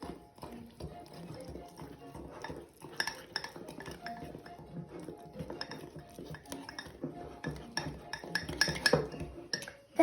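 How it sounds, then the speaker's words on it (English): A spoon stirs cake batter with milk and vanilla in a bowl, making soft, irregular clinks and scrapes that are fairly faint, with light room noise and occasional voices. "Then stir again."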